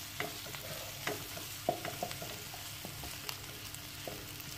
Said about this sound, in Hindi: तो सबसे पहले इसमें डालेंगे प्याज और इसको सौटे कर लेंगे।